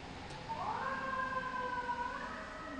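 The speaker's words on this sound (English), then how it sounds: "you'll hear sirens going off in the background" A distant fire engine siren from a nearby firehouse wails faintly in the background, its pitch rising and holding in a long sustained tone.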